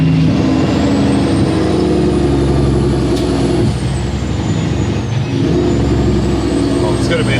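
A Kenworth W900 truck's engine drones loudly and steadily while driving, with a faint high whine gliding up and down above the rumble and a brief dip midway; voices come through over the engine.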